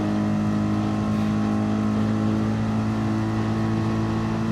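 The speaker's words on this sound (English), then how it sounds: "Now he's going to unleash the big AMG V8." A Mercedes-AMG V8 GT race car in a sim racing game at Bathurst gives a steady, loud, harmonic engine drone held under power throughout, with no talking.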